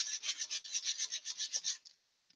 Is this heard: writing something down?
no